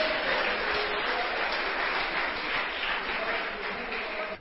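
A church congregation applauds in praise, a dense, steady wash of clapping that fills the room and holds for several seconds before cutting off.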